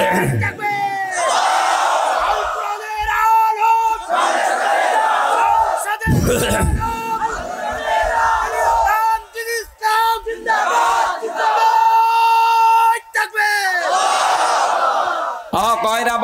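A large crowd at an outdoor Islamic sermon roars a loud chanted takbir response in repeated swelling waves, with brief pauses between them and a preacher's amplified voice heard in between.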